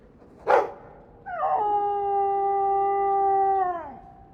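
A dog in the video game Dragon Age II gives a short yip, then a long, clear, sustained howl that holds a steady pitch before dropping off, fairly close and alone.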